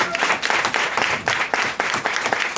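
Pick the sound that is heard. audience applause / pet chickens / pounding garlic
audience applause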